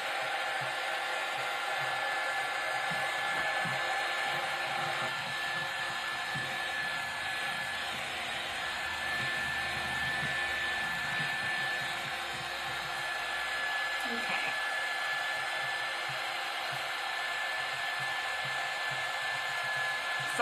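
A hair dryer blows steadily on a craft project at a hot setting, a continuous loud whoosh with a faint high whine that runs unbroken for the whole stretch.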